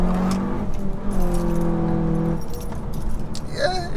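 A Seat Leon Cupra 290 engine drones as the car pulls hard, its tone rising through the gears while road and cabin noise run underneath, with a few jingling rattles toward the end.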